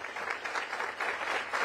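Outdoor crowd applause at a groundbreaking for a recreation center and early childhood education facility, dense steady clapping from many hands, fairly close and sustained throughout.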